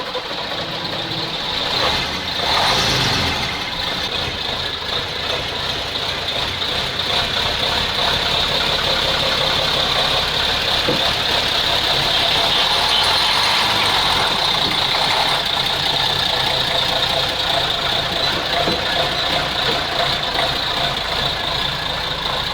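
A Praga V3S 6x6 truck engine runs steadily, a loud, continuous diesel rumble with an even mechanical knock, heard close throughout with no clear pauses.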